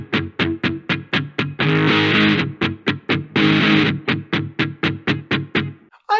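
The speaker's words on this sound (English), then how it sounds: "Well, actually, it's muted strumming." Electric guitar played with fast palm-muted strumming through distortion, tight percussive chugs in a steady driving rhythm broken by two sustained ringing chords, close and loud with no talking.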